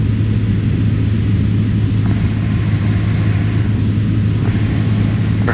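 A Cessna Skyhawk light aircraft on landing approach with flaps partly down, its engine a steady close droning hum from inside the cabin, with a couple of faint clicks over the constant tone.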